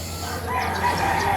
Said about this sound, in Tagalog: Manok. mga manok natin.